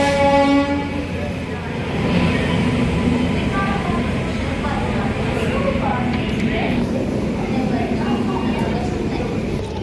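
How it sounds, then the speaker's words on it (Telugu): The Palnadu Express from Guntur to Vikarabad, recently fitted with LHB coaches, passes Begumpet railway station platform with a loud horn blast at the start, then a continuous close rumble and rattle of coaches, with voices faintly underneath. "పల్నాడు ఎక్స్ప్రెస్ అండి ఇది."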